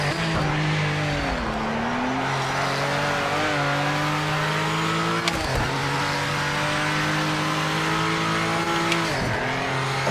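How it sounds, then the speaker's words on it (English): A Nissan Skyline R34 engine roars continuously in a racing video game, revving up and down through gear changes with brief tyre squeals, loud and close, with no talking. "I'm driving a very iconic car at the moment. R34."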